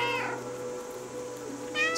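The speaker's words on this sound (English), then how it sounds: "Cat rallying cry." A cat in the video game Stray lets out two clear meows, one near the start and one at the end, over a steady low game-music hum.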